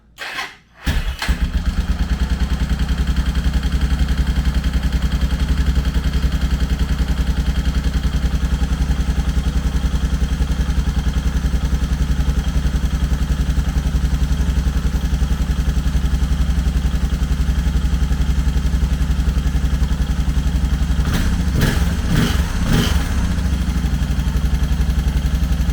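A Suzuki DR650 motorcycle with a freshly rebuilt carburetor, started on a jump pack with the choke on, catches almost at once. It settles into a loud, steady idle with an exhaust leak, and a few revs blip near the end.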